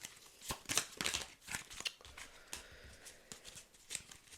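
Tarot cards are shuffled by hand in a quiet room, giving a quick run of soft papery riffles and flicks that come in uneven bursts, close and fairly faint, with no one speaking.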